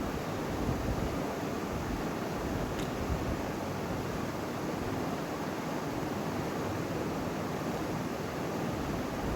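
Water poured into a pan of Bengali fish curry gives a steady, broad hissing rush that holds at an even level for several seconds, with no talk.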